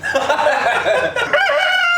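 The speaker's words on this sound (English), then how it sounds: "Rooster. Parents said they're a Rhode Island Red." A Rhode Island Red rooster crows close by, one loud, drawn-out cock-a-doodle-doo with rising and falling harmonic tones lasting the whole moment.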